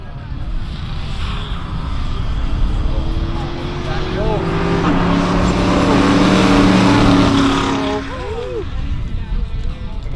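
Drag racing cars, one a blue Mustang, launching down the strip with a loud, rising engine roar that swells and holds for several seconds before dropping away, a commentator talking over it.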